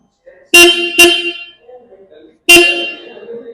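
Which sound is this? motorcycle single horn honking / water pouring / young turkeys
motorcycle single horn honking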